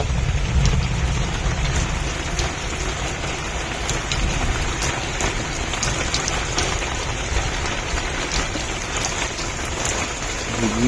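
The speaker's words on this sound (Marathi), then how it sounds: "पावसाने जोरदार सुरुवात केलेली आहे पडायला" Heavy rain pours down steadily, a dense continuous hiss of drops drumming on surfaces, with a low rumble underneath.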